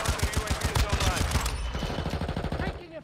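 Rapid automatic gunfire in a shooter video game, a fast close burst of shots that trails into a quieter stream of rounds as a voice speaks over it.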